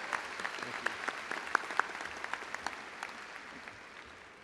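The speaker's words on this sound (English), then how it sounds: "Let's give our administration of Louisville ISD a round of applause." Graduation audience applauding in a large venue for a school district's administration, steady clapping from a big crowd, moderately distant, with a few sharper individual claps standing out.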